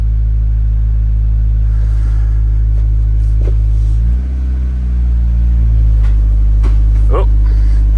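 A Fiat 124 with a MultiAir engine idles, its low throbbing rumble loud and close. Around the middle the pitch dips and the idle stumbles briefly before settling back to an even run.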